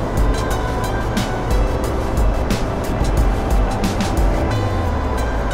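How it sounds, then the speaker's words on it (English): Refrigeration compressor for provision cold storage running inside the engine room of an electric-propulsion supply vessel, a loud, steady mechanical hum and rumble with no pauses and no voices. "We have reefer compressor, provision refrigeration system."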